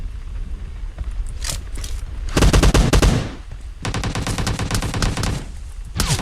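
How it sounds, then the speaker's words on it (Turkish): Automatic gunfire in PUBG Mobile aimed at a bot: short bursts early, then two long rapid strings of loud close shots separated by a brief pause. "Onu ben vurayım ya botu."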